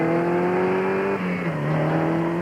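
Porsche 944 sports car engine revving steadily and loudly, with the pitch dipping briefly mid-clip before climbing again, heard alone without voices.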